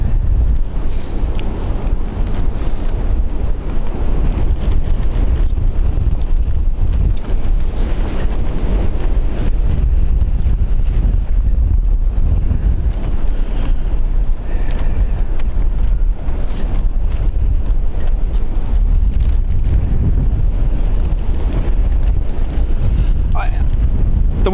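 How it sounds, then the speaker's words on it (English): Strong gusting wind at Dublin Airport batters the microphone with a continuous loud, low roar and rumble that never lets up. "The wind is that strong and it's nearly a headwind for them"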